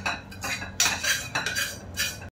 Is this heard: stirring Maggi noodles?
yes